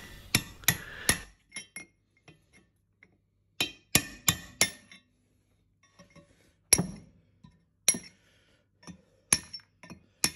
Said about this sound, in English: I'll now separate the two pieces with a hammer and chisel.